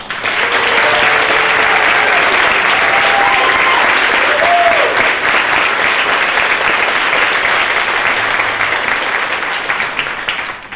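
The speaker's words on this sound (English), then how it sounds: "Can we begin by giving them another big round of applause?" A graduation ceremony crowd gives graduates a sustained, dense round of applause that stays loud and steady throughout, with a few faint voices and whoops rising above the clapping.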